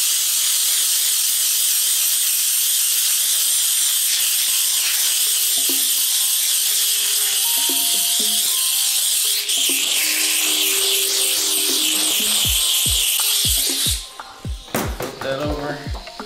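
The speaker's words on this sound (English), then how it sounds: "now I'm gonna use the steam gun, the attachment on there" A steam gun attachment hisses steadily as it blasts dirt off a pair of thrifted Chicago Jordan 13 sneakers, a loud continuous jet that cuts off near the end and gives way to a few sharp clicks and taps.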